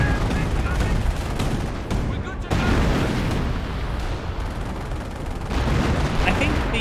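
Creeping artillery barrage in the WWII strategy game Company of Heroes, with dense, continuous rumbling explosions and gunfire rolling through the whole stretch, loud and sustained, with a brief dip partway through.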